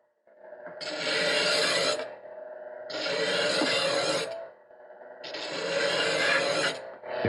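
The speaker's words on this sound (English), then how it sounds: "Now we're going to remove that burr that I can feel." A knife blade is drawn across a powered sharpener set to low speed to remove the burr: three close, evenly spaced rasping grinds, each about a second long, over a steady motor hum.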